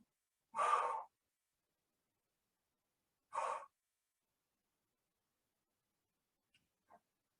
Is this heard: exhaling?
yes